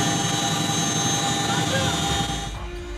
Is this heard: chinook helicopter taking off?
yes